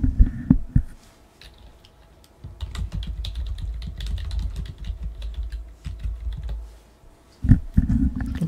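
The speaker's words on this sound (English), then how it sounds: "I'm going to type the name of the collection" Close typing on a computer keyboard, with bursts of quick clicking keystrokes separated by short pauses and a few heavier thumps at the start and end.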